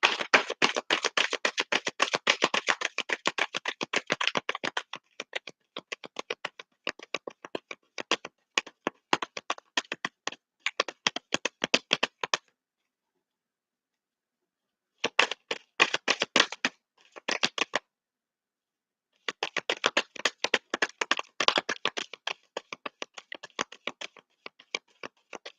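Tarot card decks are shuffled close up in quick bursts of crisp, rapid riffling patter, with two brief silent pauses between the runs.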